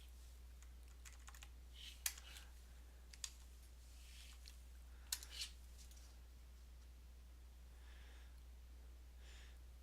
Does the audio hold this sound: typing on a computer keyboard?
yes